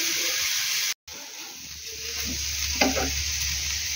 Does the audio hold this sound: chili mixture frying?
yes